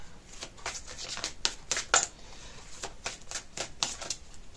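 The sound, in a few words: drawing three playing cards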